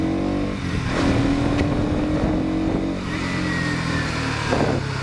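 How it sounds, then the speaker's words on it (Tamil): A 2024 Bajaj Pulsar NS200 motorcycle engine hums steadily on a test ride, moderately loud, with a couple of brief rises in pitch as it revs. "வண்டி சவுண்டு வேறு மாதிரி"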